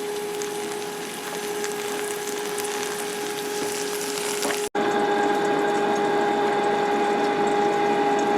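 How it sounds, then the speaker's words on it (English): Half a can of corn sautéing in butter in a pan, giving a steady close sizzle and hiss with a faint tonal hum underneath, broken by one brief gap. "I'm going to be sauteing my corn."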